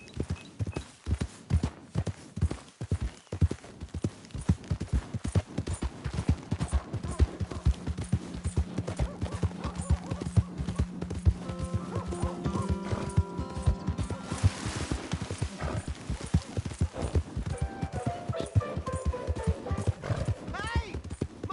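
Horse hooves in the Red Dead Redemption 2 video game: a fast, steady run of rhythmic hoofbeats close up through the whole stretch, broken by a whinny partway through, with voices talking at times.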